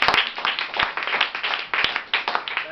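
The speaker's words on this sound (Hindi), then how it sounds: "ताली बजाओ जरा एक बार" A room of students at Gurukul Kurukshetra school claps together in a dense, steady round of applause, many hands close and loud, lasting the whole stretch with a few sharper individual claps standing out.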